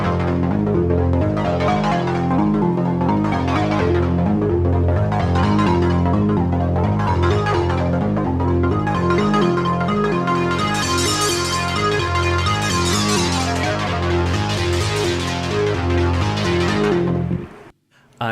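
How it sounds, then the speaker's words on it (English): A bright wavetable synthesizer lead in Ableton Live plays a repeating sequence of notes, its filter opening and closing in sweeping waves before cutting off abruptly. "In the lead group, I have this wavetable lead sound"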